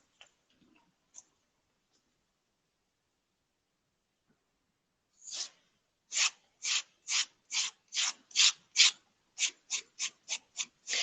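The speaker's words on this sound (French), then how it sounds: "on va passer le papier de verre" After near silence, a run of quick, even rasping strokes of sandpaper against a leather edge in a saddlery workshop, close and crisp, a dozen or so in rhythm.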